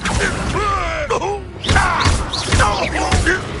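An Incendio fire spell cast during a duel in Hogwarts Legacy, with whooshing magical bursts and thuds mixed with spell effects and voices, loud and close throughout.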